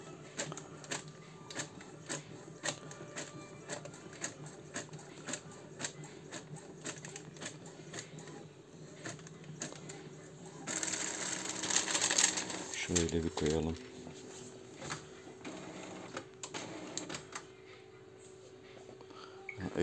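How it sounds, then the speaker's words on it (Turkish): An Epson M1100 inkjet printer feeds and prints on stencil paper, its mechanical whirring and clicking running quietly beneath someone speaking, with a louder stretch of printing midway. "Yazıcımız Epson M1100 veya 1120."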